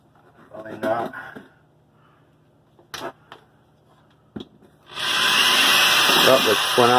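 After a few short thumps and brief speech, a loud, high-pitched power drill whines steadily for the last couple of seconds, drilling through the wall of a Holiday Rambler Endeavor motorhome.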